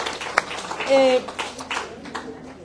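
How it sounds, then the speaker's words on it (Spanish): A small gathering of people gives a brief, thin round of clapping while voices talk over it, with a whistle-like tone rising briefly in the middle. "démosle un aplauso al Señor por la vida de Tatiana"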